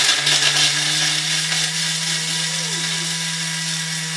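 A blender running at top speed on pesto: a loud, close, steady motor whine with a harsh grinding roar over it, the pitch dipping briefly and rising again partway through, continuous with no talk.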